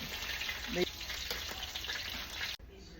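Chicken livers frying in a pan of hot oil give a steady, close sizzle and crackle throughout, with a brief clatter near the middle before the sizzle drops back.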